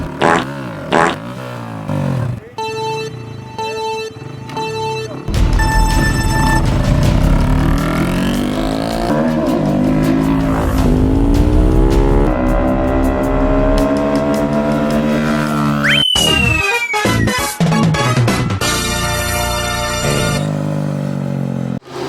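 Loud motorcycle racing engines roar and rev continuously, rising and falling in pitch as machines accelerate past, with a sharp whine sweeping through near the end.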